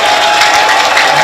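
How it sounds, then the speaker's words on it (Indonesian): Lively applause from a seminar audience, dense and steady, loud and close, filling the whole short stretch without talk. "mari tepuk tangan yang meriah lagi."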